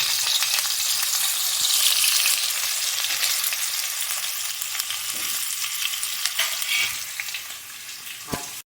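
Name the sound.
frying food in a pan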